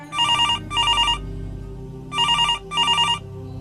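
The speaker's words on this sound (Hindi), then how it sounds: "तभी उसके मोबाइल की घंटी बजती है।" A mobile phone rings with an electronic trilling tone in two double bursts separated by a short pause, clear and close, over a low background hum.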